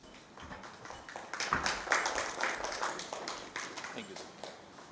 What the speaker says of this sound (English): Please give big round of applause to Karan Bhai